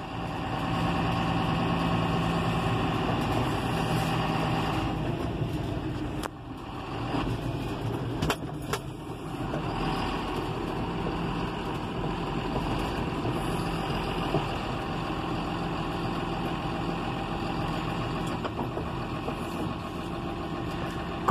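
A John Deere 6620 tractor engine idles steadily with its hood open, a continuous close rumble that holds for the whole stretch with only brief dips in level.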